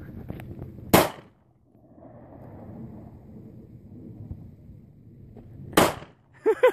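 Gunshots fired at exploding targets at an outdoor range in Las Vegas: two loud, sharp reports several seconds apart with a low murmur of wind and distant sound between, then brief clicks.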